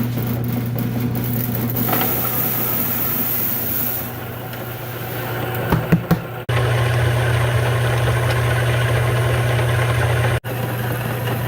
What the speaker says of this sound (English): So I'm milling this up on my Monster Mill 3mm Pro.